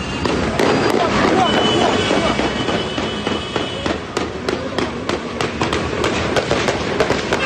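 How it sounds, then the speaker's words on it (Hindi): Gunfire rings out on a busy Jerusalem street amid heavy traffic, a rapid series of loud sharp cracks repeating irregularly over a dense, noisy street background. "हैरान कर देने वाली तस्वीरें यरूशलेम से सामने आई है जिसपे गोलियों की आवाज साफ तौर पर सुनाई दे रही है"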